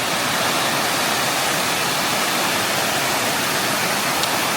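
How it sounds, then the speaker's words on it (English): Steady, loud rush of the River Lathkill flowing through Lathkill Dale, a dense unbroken roar of water close by with no other sounds over it. "I hope you can hear me above the noise of the water"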